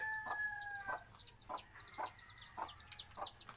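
Newly hatched chicks peep in a steady run of soft, high chirps, with a few longer calls early on and faint background noise underneath.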